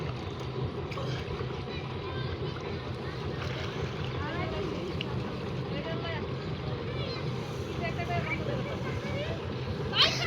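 A trawler boat out on open water, its engine droning low and steady under wind buffeting the microphone and the wash of waves, with faint voices and shouts mixed in.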